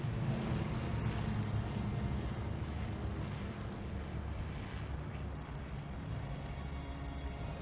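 Airplane engine in Call of Duty Vanguard during the Battle of Midway: a constant loud, broad droning roar that holds steady throughout with no speech over it.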